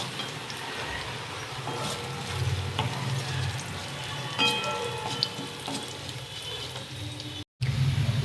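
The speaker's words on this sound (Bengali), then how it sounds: "রসুন ভাজার একটা ফ্লেভার বেরোবে" Crushed garlic frying in hot oil with dry chillies and cumin, a continuous moderate sizzle with faint stirring taps and scrapes, briefly dropping out before the hiss resumes.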